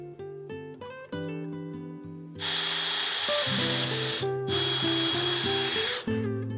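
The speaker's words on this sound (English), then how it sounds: "I just need to drill the final hole for these." A power drill bores holes for cheap metal latches on a homemade rooftop tent for a small electric car, its loud whirring hiss running in two long bursts over steady background music.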